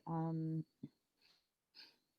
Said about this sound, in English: I have a little sniffle